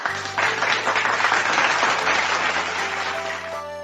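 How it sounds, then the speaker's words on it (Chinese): Applause from a live-streamed radio show audience, a dense steady patter of many hands clapping at moderate loudness, carrying on for several seconds without pause. "给我们掌声哦。"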